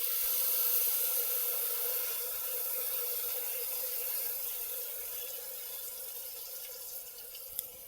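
Dal poured into hot ghee in a pan gives a steady sizzling hiss that fades gradually, quiet and close, with no talking.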